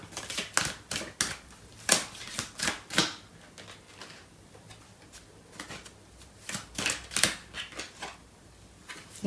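Tarot cards being shuffled and drawn, a series of crisp riffling flutters in close bursts, pausing midway and then resuming with several quick shuffles.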